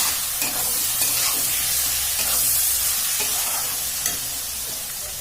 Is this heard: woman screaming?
no